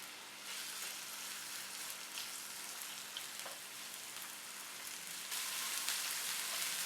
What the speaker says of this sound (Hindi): अब पैन में डालेंगे ऑयल और प्याज। प्याज को हल्का सा सॉफ्ट करेंगे